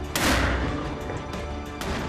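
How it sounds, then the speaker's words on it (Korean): A single loud cannon shot booms in Zagreb, a sharp blast followed by a long rumbling echo that fades over about two seconds. "가슴이 웅장해지는 대포 소리."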